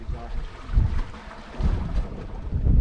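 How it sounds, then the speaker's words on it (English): Strong wind buffets the microphone during UK bass fishing from the shore, gusting in deep rumbling surges that come and go every second or so, with faint water in the background. "Our wind is certainly strong."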